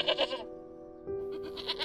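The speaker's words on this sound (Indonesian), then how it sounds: "Dari mana tadi, Pak, kok bawa kambing?" A goat brought home for the Eid al-Adha sacrifice bleats twice, one short cry followed by a longer wavering one, moderately close and alone.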